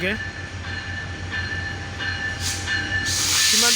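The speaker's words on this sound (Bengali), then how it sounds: "2 নম্বর প্ল্যাটফর্মে ইন করতেছে 748 সীমান্ত, এবং এই যে সামনে রয়েছে 6406 রকেট লোকাল।" The 748 down Shimanta Express, hauled by short-hood locomotive 6618, pulls into platform 2 at Birampur station. A steady rumble of wheels and engine fills the clip with a hiss rising toward the end, and a voice talks over it.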